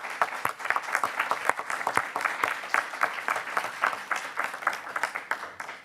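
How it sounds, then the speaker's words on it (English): Attendees at a school board meeting clap in a round of applause, a fairly close, uneven patter of individual claps that rises and then thins toward the end. "one more round of applause to everybody who helped us with that"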